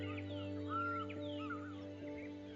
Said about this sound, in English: Hear the fish eagles on the background